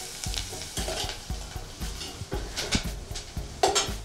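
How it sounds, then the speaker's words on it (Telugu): Sliced onions fry and sizzle in a pan on the stove while a utensil stirs them in a steady rhythm of scrapes, close and moderately loud, during preparation of a yogurt bottle gourd curry. "ఆనియన్స్ కొంచెం ఫ్రై అయ్యేంత వరకు ఉంచుకొని స్టవ్ ఆఫ్ చేసుకోవాలి"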